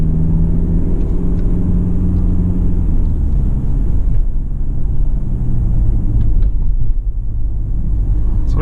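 A Mercedes car engine giving a sporty note while driving, heard from inside as a steady low rumble that swells slightly, with faint road noise and no talking.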